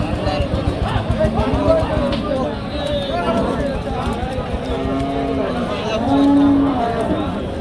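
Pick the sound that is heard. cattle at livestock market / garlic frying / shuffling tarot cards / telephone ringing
cattle at livestock market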